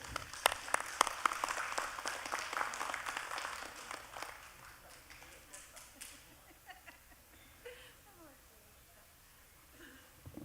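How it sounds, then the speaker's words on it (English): Applause for the chief and council at a band meeting, a burst of clapping for the first few seconds that thins out and fades, with scattered voices underneath. "let's give the chief and council a hand of applause, ladies and gentlemen"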